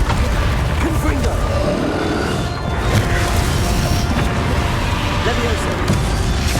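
Confringo fire blast spell in Hogwarts Legacy: crashing, booming impacts and clattering effects layered over continuous game noise, steady and loud, with a voice speaking over the action.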